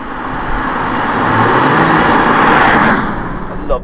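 An Audi RS3 accelerates on the road, its engine giving a loud, rough roar that builds steadily for a few seconds before easing off, heard close and without talk.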